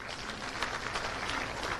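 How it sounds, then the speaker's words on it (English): Steady clapping from a Rotary Club meeting audience, a dense, even patter of many hands that holds at a constant level throughout. "let us give Rotarian Happiness Arnold a hand clap"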